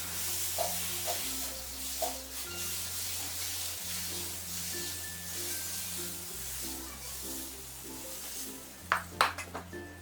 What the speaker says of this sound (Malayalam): ഇനി ഇതിലേക്ക് ഓരോ സ്പൂൺ മാവ് കോരി ഒഴിച്ച് ചുറ്റിച്ചു കൊടുക്കാം.